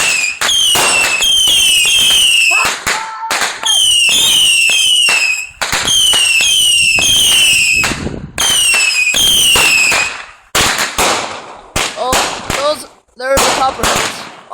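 Fireworks explode in rapid volleys at a 4th of July show, with loud cracking bursts, whistling rising shells and crackling tails in dense clusters, then sparser pops toward the end.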